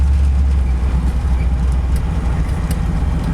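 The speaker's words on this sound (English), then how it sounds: "She has an exhaust leak, so what you're hearing would be an exhaust leak," 1964 Cadillac Series 62 driving with an exhaust leak, a loud, deep, rough rumble that throbs unevenly and continuously up close, with faint ticking and rattles over it and no talking.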